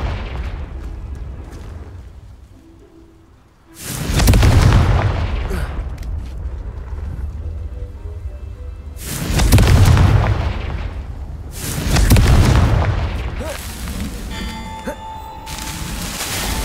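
Three heavy booming blasts from the Confringo blasting spell in the video game Hogwarts Legacy, each a loud, rumbling burst that fades slowly, separated by quieter stretches of ambient game sound.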